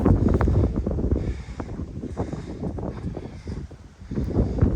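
Wind gusts buffet the microphone over grassy pasture hills, producing low rumbling blasts that swell strongly at the start and end and ease somewhat in between, with no talking.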